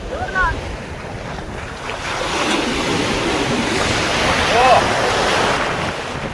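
Ocean surf rolls and crashes in a continuous roar, mixed with gusty wind buffeting the microphone, with a couple of brief bird-like chirps.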